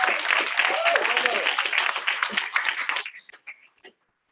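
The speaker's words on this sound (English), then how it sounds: "Give another round of applause for Dr. Kimberly Chang." An audience at a health convention gives a round of applause, dense clapping for about three seconds that thins into a few scattered claps and stops, with some speech mixed in.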